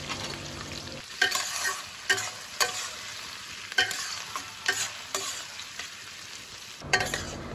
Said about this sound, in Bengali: পেঁয়াজের কুচি একটু বেশি করেই দিলাম, দিয়ে আমি পেঁয়াজের কুচিটাকে লাল লাল করে ভেজে নেব